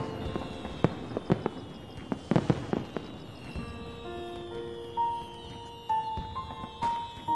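Fireworks burst repeatedly in the sky over a few seconds, with sharp cracks and booms at uneven intervals followed by fainter crackling and a few rising whistles, moderately loud against a quiet background.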